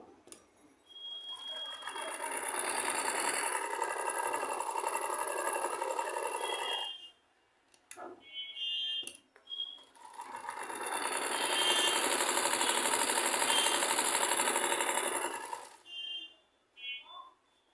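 A domestic sewing machine stitching in two long runs, a rapid buzzing chatter close by, separated by a short pause with clicks and handling noises.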